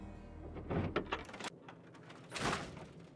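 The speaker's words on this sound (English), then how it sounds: "I'll unlock the door." Door unlocking and swinging open in Fallout 3, a couple of mechanical clunks and a sliding rumble with one louder thud near the end, heard without any talking.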